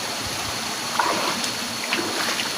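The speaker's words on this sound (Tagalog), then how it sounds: "Ito ang Kamaluya Falls." Steady rushing stream water at Kamaluya Falls, a continuous broadband wash with a few faint splashes, moderately distant and without speech.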